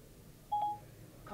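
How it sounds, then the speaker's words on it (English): A Ferrari's in-car Siri system places a phone call, heard as a short, faint dialing tone followed by a brief second chirp over low cabin hum. "Calling John Appleseed."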